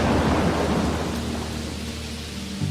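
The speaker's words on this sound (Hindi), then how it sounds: "तभी शाम को बहुत तेज बारिश होने लगी, बिजली चमकने लगी" Heavy rain pours steadily with low rumbling thunder rolling underneath, a dense continuous storm wash that stays loud throughout, with no voices.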